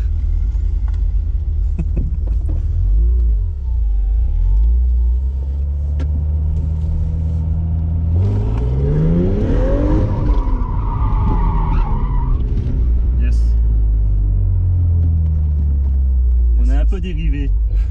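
A BMW E30 325i with its six-cylinder engine rumbles and revs up loudly, the pitch climbing and falling as the car drifts with tyre squeal, close and continuous, with a voice speaking over part of it.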